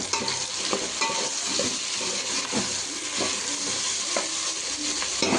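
Three chopped tomatoes sautéing in a pan for a fish curry, a dense, steady close sizzle punctuated by soft rhythmic scrapes of a stirring spoon, with nobody speaking.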